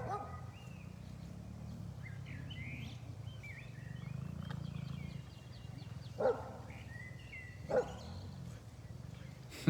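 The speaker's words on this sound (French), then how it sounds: "Rencontre de chiens." Dogs meeting one another, with a couple of short barks or yelps standing out over steady low background noise and faint chatter, fairly distant.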